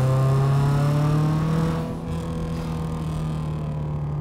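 A Subaru STI street car built to around 600 horsepower with a large turbo holds a loud, steady engine drone that dips briefly partway through, then carries on near and strong with no talk over it.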